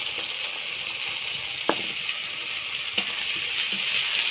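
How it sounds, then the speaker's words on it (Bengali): Ground garam masala spice paste frying in a pan, a steady soft sizzle with a couple of light knocks from stirring, close and alone. "মশলাটা ভালো করে ভাজি করব।"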